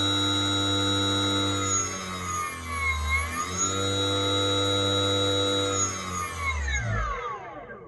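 An e-bike hub motor spins at full throttle with no load, giving a loud, steady electric whine with a brief dip in pitch midway, then winding down smoothly toward silence at the end.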